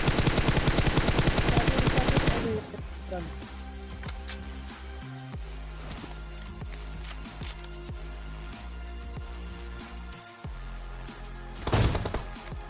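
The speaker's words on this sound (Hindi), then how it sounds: "एक बंदे के मैं ट्राई करता हूँ AWM मारने की," Gunfire from an AWM sniper rifle in a mobile battle-royale shooter opens with a dense, loud burst of shots. Scattered single cracks and thuds follow at a lower level, and another sharp burst comes near the end.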